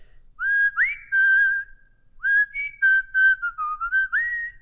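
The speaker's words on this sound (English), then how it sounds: "we have a real good whistling room here" A person whistles a lively tune in a room with strong echo, the notes sliding and ringing out in two clear phrases. It is close and fairly loud, with no speech.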